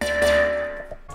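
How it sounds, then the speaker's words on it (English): Two layered bass sounds from a hip-hop beat play alone: a brief, dense, heavy low tone with a faint higher hum on top, fading out after about a second. "I kind of stacked two basses together."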